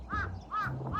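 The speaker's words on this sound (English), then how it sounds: "I can hear so many birds." Crows calling outdoors near a shady bridge in Japan, two or three clear caws in quick succession, moderately distant and alone.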